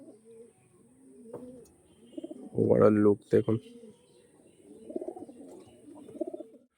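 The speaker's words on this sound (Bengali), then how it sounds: "এটা যার ঘরের পায়রা।" Breeder pigeons with cut tails, brought in from outside and kept in a home loft, coo in a short, loud burst midway through, while someone talks before and after.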